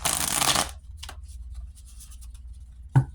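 A quick riffle of tarot cards being shuffled, followed by softer handling and a small tap as the deck settles.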